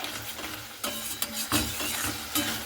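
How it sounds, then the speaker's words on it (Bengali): Fried potatoes are tossed with spices in a pan, giving a low, constant frying sizzle broken by a few scraping stirs of a spatula. Close and moderately loud, with no voices. "তো মশলার সঙ্গে আর আলুর সঙ্গে খুব ভালো মতো করে এগুলো কষতে নিতে হবে।"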